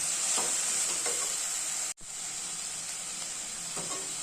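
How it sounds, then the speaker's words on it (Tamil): Tomatoes and onion sautéing with salt in a pan for a street-style chutney, giving a steady, close sizzle and hiss with faint stirring taps, briefly cut off near the middle before resuming. "இப்போ ஒரு நல்லா ரெண்டு செகண்ட் வதங்கிக்கலாம்"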